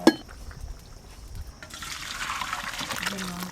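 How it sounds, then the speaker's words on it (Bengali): Cooking water is poured off boiled potatoes, splashing and trickling steadily into a sink. Near the start there is a brief clink, and a voice speaks quietly under the pour. "আলু ভালো করে সেদ্ধ হয়ে গেছে এবার ঢেলে নেবো"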